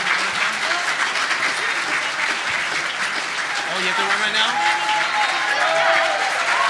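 Sustained audience applause at a furry convention voice-acting panel, steady and dense throughout, with a person speaking briefly over the clapping.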